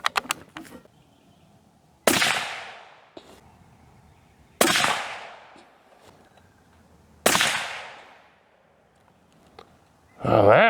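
A Savage 110 Predator rifle being sighted in fires three loud, sharp shots a couple of seconds apart, each echoing briefly outdoors; a few faint clicks come before the shots and a brief noise follows the last one.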